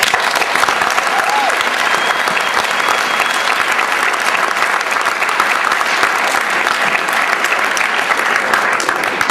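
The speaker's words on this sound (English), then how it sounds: "He deserves a round of applause." Audience at a school winter sports awards ceremony gives a loud, sustained round of applause, dense continuous clapping from a crowd heard steadily throughout with no speech on top.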